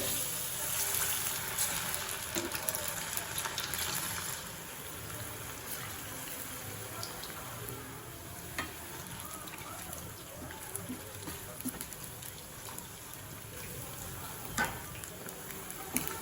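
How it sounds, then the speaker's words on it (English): An egg snack deep frying in hot oil, a faint, steady sizzle and bubbling that continues throughout without a break, with some low background noise. "Okay, now let's deep fry"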